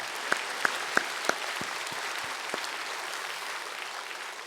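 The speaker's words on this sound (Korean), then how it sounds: "주님께 감사의 박수를 올려드립니다" A large church congregation applauds steadily and evenly throughout, with a few sharper claps standing out near the start.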